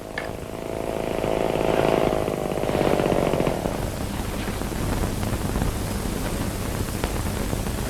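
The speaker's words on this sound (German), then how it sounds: "Glatt und leicht entfernt man mit der Motorsäge die Wurzelanläufe." Chainsaw cutting the root flares off the base of a tree in a forest during 1960s-style farm woodland harvesting, a loud, steady buzzing drone that swells for the first few seconds and then continues as rough, gritty cutting noise.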